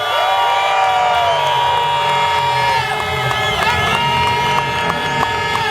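A large crowd cheers and whoops loudly, with shouts and whistles rising over a continuous roar of many voices.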